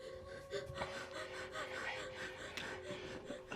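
A woman breathes hard in heavy, gasping pants, close and continuous, over a dense film soundtrack with a sustained musical drone.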